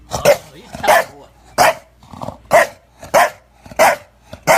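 Frankie the dog barks repeatedly while playing with a little ball, about seven sharp, close barks in a steady rhythm with brief growly sounds between them.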